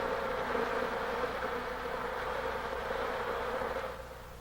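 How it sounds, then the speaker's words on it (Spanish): Honeybees in a hive fan their wings vigorously, making a dense, steady droning hum that holds level and then fades slightly at the end. "El vigoroso movimiento de sus alas produce corrientes de aire que evaporan el agua"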